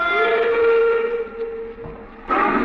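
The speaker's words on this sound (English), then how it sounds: "I stood there on the embankment as the train pulled away." A train pulls away as a radio drama effect, with a steady steam whistle tone and rumbling rail noise fading slightly, then a brighter burst of hiss near the end.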